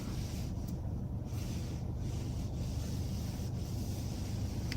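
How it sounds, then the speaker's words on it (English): Steady wind gusts through an outdoor spot on a windy, rainy day, making a constant low rumbling buffet against the microphone with no voices. "It's pretty windy here"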